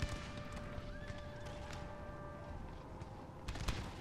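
Horses of light horse dragoons whinny and their hooves clip-clop in a Napoleon Total War battle, faint neighs rising over a dense, noisy rumble of hoofbeats and battlefield din.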